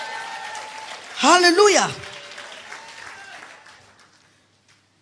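A church congregation applauds in a steady wash of clapping while one voice rings out with a loud acclamation over it, and the applause fades away to quiet.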